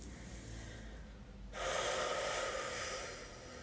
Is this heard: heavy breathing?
yes